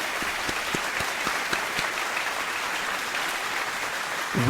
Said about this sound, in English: So everyone clap for me.